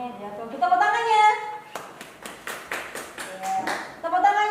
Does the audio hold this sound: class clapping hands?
yes